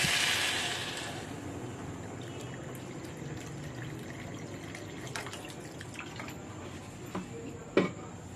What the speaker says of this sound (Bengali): একটু নাড়াচাড়া করে এবার আমি জল দেবো।